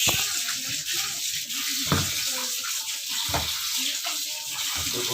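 Cold tap water runs steadily and close by with a constant hiss and splash, while faint clinks and movements come through underneath, during preparation of dried salted fish.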